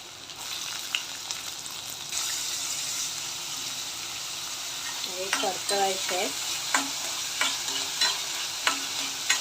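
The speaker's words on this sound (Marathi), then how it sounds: "दोन चम्मच तेल घेतलं आहे कांदा घातला आहे" Chopped onion frying in two spoons of oil, a continuous sizzle with stirring scrapes and clinks of a spoon against the pan.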